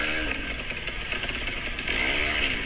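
A tuned Indonesian motorcycle engine, a Barbara Speed build set up by a mechanic, drones in a steady buzzing rev up close, lifting slightly in pitch and loudness near the end.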